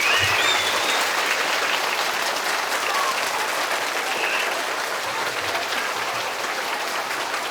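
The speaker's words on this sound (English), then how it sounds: "After 3, you're going to clap" Children at a school clap together in a dense, continuous wash of applause, loud and steady throughout with no clear individual claps and no talk over it.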